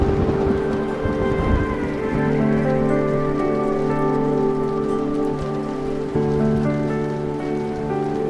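Steady rain falls continuously in a drama scene, a dense wash of drops over a sustained tonal music bed, loud and unbroken throughout.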